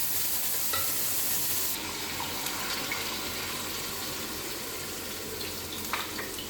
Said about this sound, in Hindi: ये फ्राई होते जा रहे हैं और हम इनको टर्न करते जा रहे हैं